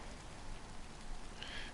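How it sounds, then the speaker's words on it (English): Steady rain in the DayZ video game, a soft constant hiss of falling drops on the ground with no break, heard alone at moderate level. "It's starting to rain."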